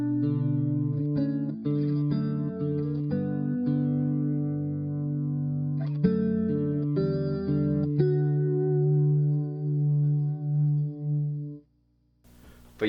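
Electric guitar through a chorus pedal set to a slow rate with the lag raised, giving gentle movement: a sequence of picked arpeggiated chords ringing with light wavering modulation before fading to near silence.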